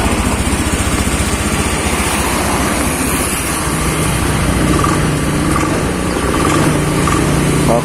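A Honda Beat FI scooter engine idles after a full engine overhaul, running close-up with a steady, even rumble and no revving.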